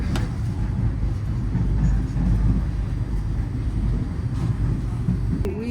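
The Blue Train passenger train runs through South Africa with a steady low rumble and rattle of wheels on track heard from inside a carriage, continuous and even, with a faint squeal near the end.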